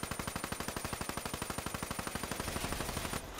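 Rapid automatic gunfire in Call of Duty, a steady stream of evenly spaced loud shots lasting about three seconds before breaking off into a brief noisy burst.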